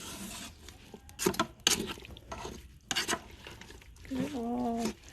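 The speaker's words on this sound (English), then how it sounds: "But let me mix this real quick." Spoon stirring chili beans and dry ingredients in a pot, with irregular scraping and clinking against the sides and a spoken voice between the strokes.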